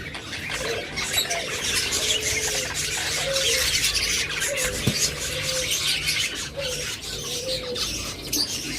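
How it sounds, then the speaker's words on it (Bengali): A crowd of caged budgerigars chirps continuously in a dense, bright chatter, close and steady, with a few lower calls breaking through the twittering. "অসংখ্য বাজরিগার পাখি রয়েছে আমাদের কাছে"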